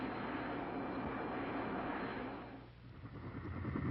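A loud, rushing F-4 Phantom jet engine roar that dips briefly then surges back, heard up close without voices.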